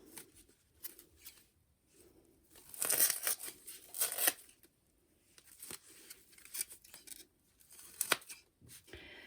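Scissors snip through a stack of paper feathers cut for angel wings, giving dry crisp cutting and rustling in separate bursts, close and fairly quiet with pauses between.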